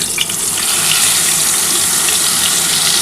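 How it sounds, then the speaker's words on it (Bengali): Water pours into a pan of oil with ground mustard and green chili paste for a hilsa fish curry, a steady close gushing hiss with faint sizzling that lasts the full few seconds. "এই যে মশলাটার মধ্যে জলটা দিয়ে দিলাম।"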